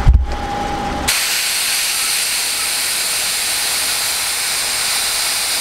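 Steady broadband hiss of air venting from a 4x4 tyre to lower its pressure after inflation with a single-barrel 12-volt compressor, starting abruptly after a brief thump and continuing loud and even to the end.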